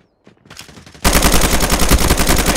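A first-person shooter match on a hardpoint objective erupts into loud, sustained automatic gunfire after a quieter stretch of scattered shots, with rapid, rattling bursts filling the second half.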